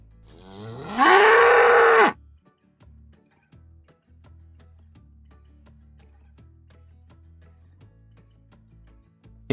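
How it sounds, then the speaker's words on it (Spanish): A bull gives one loud, drawn-out moo lasting about a second, close and clear, followed by a quiet steady ticking in the background. "El toro."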